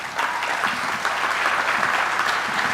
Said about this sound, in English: Ladies and gentlemen, your applause, please, for Commissioner Robin Fisher.